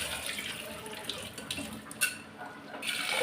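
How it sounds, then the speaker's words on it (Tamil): Lentils for sambar being rinsed with water, probably under a running tap or in a sink: a steady close wash of splashing and trickling that holds throughout, briefly swelling near the middle and again toward the end. "பருப்பை நல்லா கழுவிடுறேன்."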